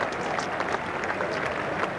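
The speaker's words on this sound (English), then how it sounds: "a little applause as this bowling change is greeted" Scattered applause ripples through a cricket crowd at Lord's during an England v Australia Test in 1985, a steady, moderate patter of clapping that carries on evenly across the ground.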